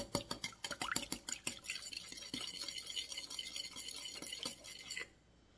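A fork whisks milk, eggs and vanilla extract in a bowl: rapid clinking taps against the sides, then a softer steady swirl that stops abruptly.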